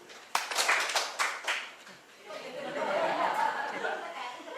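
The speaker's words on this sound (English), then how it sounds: "I'd like you to clap your hands once." An audience of teachers in a training session claps hands once in loose, scattered claps rather than one unified strike, followed by chuckles and murmuring chatter that rise as the room relaxes.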